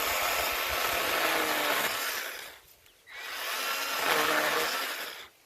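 Works battery pruning chainsaw cutting through a branch about as thick as a thumb: two loud, close buzzing bursts of the motor and chain biting wood, separated by a brief lull, with no talking.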